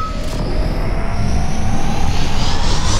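Spacecraft lifting off in the space game Spacebourne 2, a steady loud engine roar and rumble that swells slightly and holds throughout, with a faint rising whine on top and no talk.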